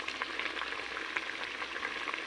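A pot of vegetable dish bubbles at a steady boil, giving a continuous soft hiss and crackle that stays faint and even throughout, with no talking.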